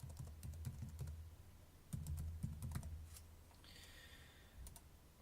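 Someone types on a computer keyboard in quick, faint clusters of key clicks with short pauses between, and no one speaks.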